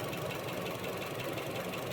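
A car engine with a stuck valve knocks with a steady, close mechanical clatter over a rough running drone, with no pauses and no voices.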